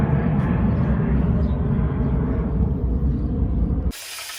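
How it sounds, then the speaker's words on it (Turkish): A steady, loud roaring rush of a passing airplane fills the clip, then cuts off abruptly near the end to a thin hiss. "uçak yine geçiyor"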